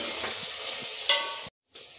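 Curry sizzling in a pan as ginger is added and stirred, a close, steady frying hiss with scraping stir strokes and a brief sharp clink, then a short silent gap before the sizzle resumes.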